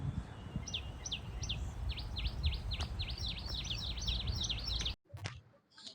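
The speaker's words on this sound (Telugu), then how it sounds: "విన్నారా బర్డ్స్ ఎంత బ్యూటిఫుల్ గా హమ్ చేస్తున్నాయో." Birds singing in the forest of Perecherla Nagaravanam city park near Guntur, a run of repeated sharp chirping notes in quick succession over a rough outdoor background, fairly faint, ending with brief rustling.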